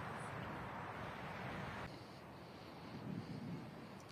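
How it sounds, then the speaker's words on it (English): Steady wind sweeps across an open outdoor golf course at a professional women's tournament, a constant broadband rush buffeting the microphone for a few seconds, with no clear talk. "Sarah Schmelzel dealing with left to right break and left to right wind"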